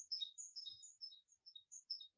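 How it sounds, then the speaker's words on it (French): Small birds chirp outside an open window, a quick series of thin, high tweets in short bursts, faint and fairly distant with quiet gaps between. "j'ai des petits oiseaux qui sont présents en ce moment à travers la fenêtre ouverte"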